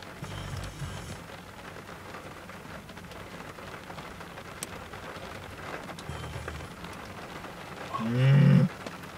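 A cow moos twice, once faint and once louder at the end, amid steady rainfall during a severe summer thunderstorm in Cambridge City, Indiana.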